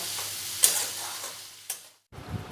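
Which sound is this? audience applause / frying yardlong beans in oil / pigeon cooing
frying yardlong beans in oil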